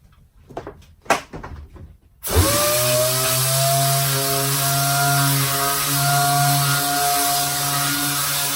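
A Dynabrade random orbital sander starts up after a few knocks and runs steadily on wood, a loud, close, continuous whirring hum with a sustained tonal whine.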